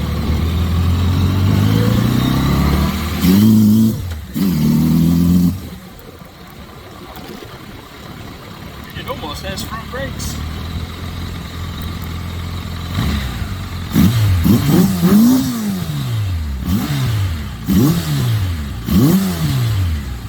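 A 1992 Kawasaki Voyager motorcycle revs loudly nearby, then after a quieter stretch accelerates hard down the road through several rising gear pulls, with a brief spoken remark over the engine.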